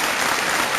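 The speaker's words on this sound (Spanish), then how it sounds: "El aplauso del público que vino también aquí a acompañarte" Studio audience applauding on a Chilean evening talk show, a steady dense clatter of many hands clapping, loud and close, filling the short moment with no voices.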